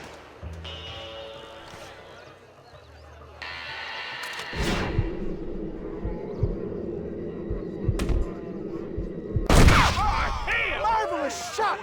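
Gunfire erupts in a Red Dead Redemption gunfight, with a burst of shots and a sharp close blast near the end. Tense music and in-game voices run underneath.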